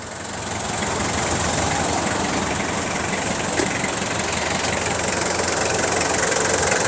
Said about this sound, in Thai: ได้ยินเสียงเครื่องไหมครับ เสียงเครื่องนี่สตาร์ทไว้แล้วนะครับ